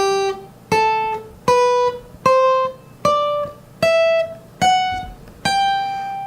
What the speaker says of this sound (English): you're going to hear the sound of a major scale